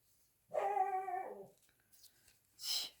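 A dog lets out one drawn-out, wavering howl lasting about a second, followed by quiet, a few faint small sounds, and then a short breathy huff near the end.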